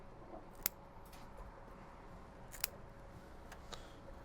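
Kitchen scissors snipping the fins off a red mullet, two or three faint crisp snips spaced apart in a quiet room.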